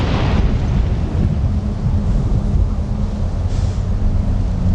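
A storm in the video game Skyrim roars as a loud, continuous rumbling wash of wind and low noise with no distinct breaks and no voices.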